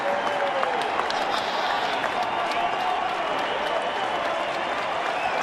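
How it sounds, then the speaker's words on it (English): A baseball stadium crowd cheers and applauds in a steady, loud roar that fills the whole stretch without letup, with a game broadcast from a Tigers season in 2011. "And again, here comes the crowd."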